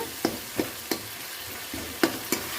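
Tomatoes softening in a pan while being stirred, with a low steady sizzle and a handful of sharp spoon scrapes and clinks spaced irregularly, close and fairly quiet.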